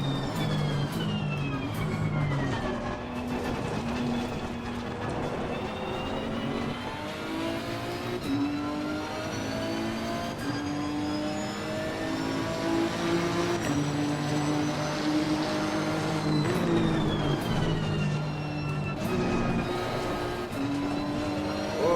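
Turbocharged race car engines in Assetto Corsa Competizione, a loud continuous high-revving whine that rises and falls through gear changes and corners, with other cars' engines layered in and no voices.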